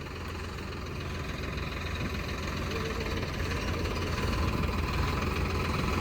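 A Swaraj 855 tractor engine idles steadily with a low, continuous rumble and even knocking throb, close by and fairly constant throughout.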